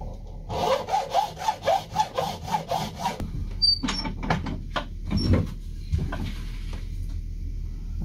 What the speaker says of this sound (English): This is just a frame saw with a hacksaw blade on it.